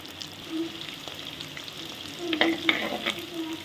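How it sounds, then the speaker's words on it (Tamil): Onions sauté in a pan as the base for an anchovy fish curry, with a soft, steady frying sizzle and a few clinks and scrapes of stirring near the end, with no talk. "நல்லா வதக்கிக்கலாம் வெங்காயம் லைட்டாக கலர் மாறினா போதும்"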